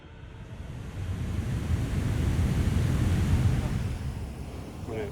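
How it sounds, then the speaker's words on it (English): Ocean waves surge beneath lava rock and force air out through a tube blowhole, a low rushing breath that swells to a loud, close roar and then eases, with wind buffeting the microphone. "There's a spot where the waves push in below the rocks through lava tubes, and it pushes air pressure and it breathes out through the"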